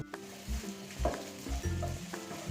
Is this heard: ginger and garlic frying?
yes